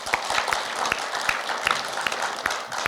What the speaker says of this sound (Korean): 다시 한번 감사의 박수를 보내주시면 고맙겠습니다